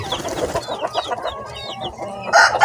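Three-day-old chicks peep in high chirps among larger young chickens that cluck and chatter nearby, a close, busy poultry brood with a louder squawk near the end.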